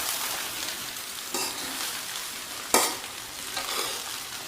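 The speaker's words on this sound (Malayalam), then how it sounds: "നന്നായിട്ടൊന്ന് ഹൈ ഫ്ലെയിമിൽ വെച്ചിട്ട് മിക്സാക്കി കൊടുക്കാം" Cauliflower fried rice stir-fried in a pan over a high flame, a steady hiss of frying with occasional scraping stirs, one sharp clatter near the end, close and moderately loud with no talking.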